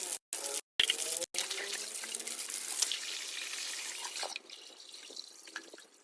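Running water fills a bath in a steady rushing splash, close and fairly loud. It cuts out in a few brief gaps early on and settles to a softer trickle toward the end.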